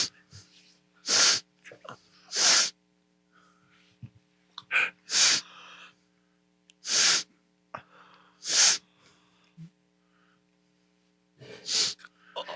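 Someone sniffs a strand of spaghetti up through the nose, producing a series of sharp, loud snorting inhalations separated by pauses and softer breaths, close to the microphone.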